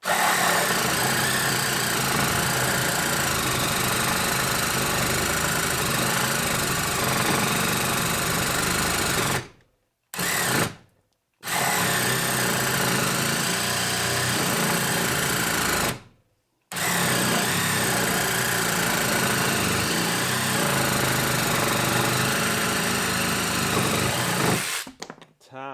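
A DeWalt 12V cordless hacksaw with a new 6 TPI blade rips lengthwise along a 2x4. The blade gives a loud, continuous buzzing reciprocating drone close by, stopping briefly three times before carrying on, with no talking.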